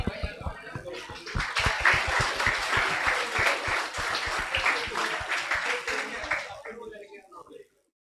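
Audience at a self-worth training session breaks into rapid, crisp clapping that builds into full applause, holds steady for several seconds, then stops abruptly, leaving near silence.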